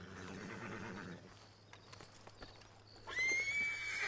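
A horse in the Red Dead Redemption 2 game lets out a loud, rising whinny near the end, after a stretch of hoofbeats and clip-clop over a low ambient drone.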